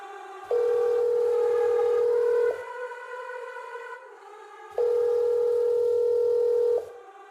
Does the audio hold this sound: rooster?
no